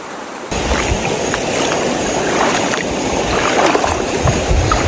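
A river rushes steadily beside a campsite in Real, Quezon, its broad continuous wash of flowing water filling the whole stretch with no voices.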